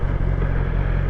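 A BMW S1000XR sport-touring motorcycle rides along with a steady, continuous engine drone and road roar, loud and close throughout, with no talk over it.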